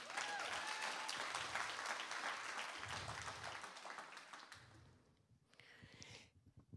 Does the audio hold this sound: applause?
yes